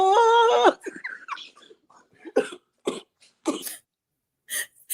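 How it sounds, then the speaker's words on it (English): Several harsh, sputtering coughs break out one after another, ragged and close, with gasping pauses between bursts and a brief voice at the start. "you got my friend coughing and choking"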